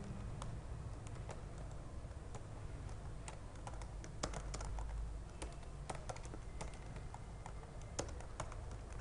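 Fingers type on a computer keyboard in quick, uneven bursts of soft clicks, close and quiet, continuing alone without any voice.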